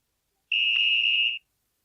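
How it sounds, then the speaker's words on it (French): A single sharp, shrill police officer's whistle blast, steady and piercing, close up and lasting just under a second. "Le sifflet du gendarme."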